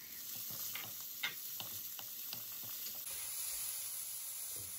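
Shredded cabbage stir-fries for lamb fried rice, a soft, fairly faint sizzle with repeated scraping strokes of a spatula tossing it in the pan, and a thin high whine running throughout.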